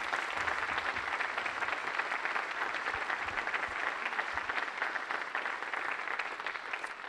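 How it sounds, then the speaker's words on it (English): Concert audience applauding a brass ensemble at a school of music tribute concert, an even wash of clapping that sounds somewhat distant and holds steady throughout. "How about a round of applause for them?"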